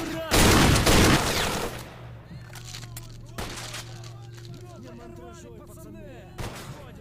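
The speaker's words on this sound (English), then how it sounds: "Let's see if I can shoot my way out of here." Video game gunfire erupts in a loud dense burst of rapid shots near the start, then thins to scattered single reports over a steady low hum, with talk mixed in.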